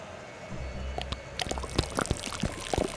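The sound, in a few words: oil pouring and dripping in Secret Files 2 video game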